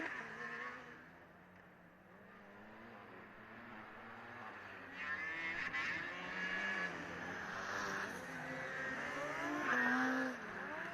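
Formula Student race cars in an endurance event, heard as distant high-revving engine whine that rises and falls as cars pass and accelerate, with overlapping engine tones and faint crowd ambience.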